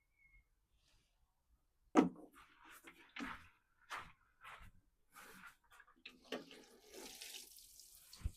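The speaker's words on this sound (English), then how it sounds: "And I'll give them a good water now." Garden seedlings being watered in a spring vegetable patch: a sudden splash starts a spray of water landing on plants and soil, running in bursts under outdoor background noise with no talk.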